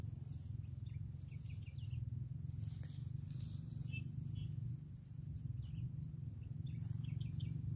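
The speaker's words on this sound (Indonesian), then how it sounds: "Masih banyak suara kicau burung liar ya." Scattered wild bird chirps and short tweets come from a distance over a steady low rumble and hiss of outdoor background noise in a rural cajeput oil plantation.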